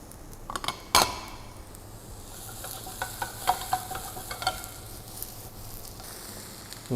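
Shimeji mushrooms frying with half-cooked shiitake for a plant-based Buddha's Delight, a soft steady sizzle broken by sharp scrapes and clinks of a utensil stirring against the pan.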